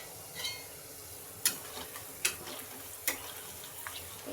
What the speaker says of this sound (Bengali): এদিকে পেঁয়াজ ভাজতে দিয়ে দিয়েছি